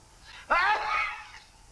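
A single short, sharp sneeze bursts out once in a quiet setting, trailing off quickly.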